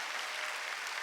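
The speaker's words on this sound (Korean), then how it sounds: "박수 치라." A church congregation applauds during a Wednesday worship service, a dense, steady wash of many hands clapping at once, fairly close and continuous with no pause for the whole short stretch.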